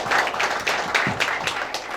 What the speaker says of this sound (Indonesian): Coba sekali lagi dulu kita berikan tepuk tangan dulu.